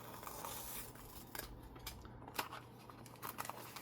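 Scissors snipping through paper for a rustic farm-themed junk journal, a few quiet irregular cuts close by over a low steady background hum.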